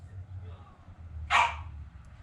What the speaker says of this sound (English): Teddy's decided to bark again